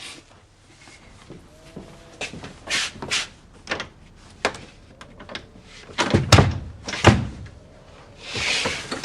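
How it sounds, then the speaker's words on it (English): A stuck door being tried and rattled, with repeated thumps, knocks and rattling bursts that come unevenly and grow louder toward the end, close by and with no talking. "The door's stuck. Can you open it?"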